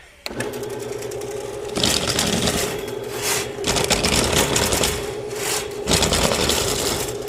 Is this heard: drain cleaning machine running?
yes